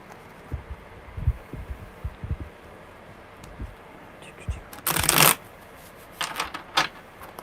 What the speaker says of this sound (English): I love a good shuffle